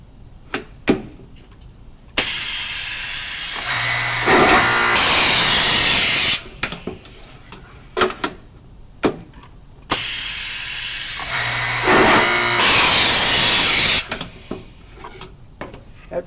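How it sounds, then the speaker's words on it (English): A power drill bores into the backs of Grass Zargen drawers in two long bursts, each winding up into a loud high whine, separated by quieter gaps filled with clicks and clatter of handling the workpiece. "First, we're going to drill our backs."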